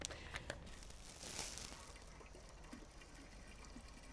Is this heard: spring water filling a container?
yes